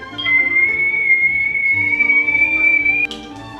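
A kettle whistles on the stove, one steady high shrill tone held for about three seconds over soft background music, then cut off abruptly.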